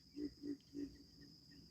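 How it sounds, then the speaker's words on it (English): Three low, resonant grunts from alligators on Lake Okeechobee in quick succession, faint and distant, over a steady background of insect buzzing. "That grunting sound, those are alligators."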